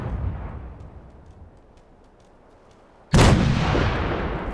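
In the Fallout 4 video game an artillery shell lands with a sudden loud, close blast after a low fading rumble, its roar and debris rush lingering and slowly decaying.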